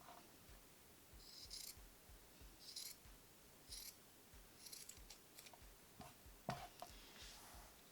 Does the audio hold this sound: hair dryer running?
no